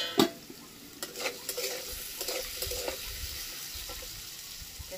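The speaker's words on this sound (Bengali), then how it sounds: "ছাকা তেলে আলু ভাজা" Potatoes deep frying in hot oil, a soft steady sizzle with a sharp clink at the start and light stirring taps throughout.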